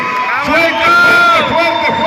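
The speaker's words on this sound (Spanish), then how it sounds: "Dele ese grito de júbilo." Crowd at a talk on arguments in defense of life lets out loud whoops and cheers to welcome a speaker, voices overlapping in a sustained, close roar.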